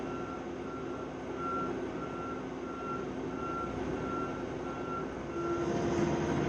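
Trucks reversing at an asphalt milling job, a steady repeating backup beep over the constant low roar of heavy engines and machinery, continuous and fairly loud, with no talking.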